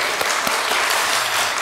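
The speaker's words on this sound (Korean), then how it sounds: "우리 하나님께 영광의 박수 돌리겠습니다." A church congregation at a Sunday worship service applauding, dense even clapping filling the room at steady volume for a couple of seconds.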